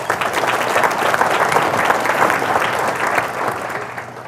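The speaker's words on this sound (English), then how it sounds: "Let's give them a round of applause." Loud, sustained audience applause at a State of the City address, a thick, continuous patter of many hands clapping at an even level from start to finish.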